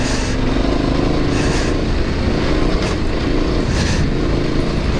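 A steady, loud Yamaha Ténéré 700 engine drone with rushing wind noise, as heard while riding the motorcycle at speed; no voices.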